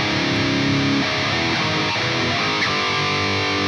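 Heavily distorted electric guitar power chords ring out in the chorus riff of a song, a long sustained chord shifting into choppier changes, loud and dense with no talking.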